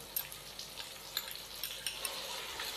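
Spices, crushed green chilli and a few spoonfuls of yogurt fry in a pot for carrot pulao, giving a soft, steady sizzle with faint stirring clicks throughout.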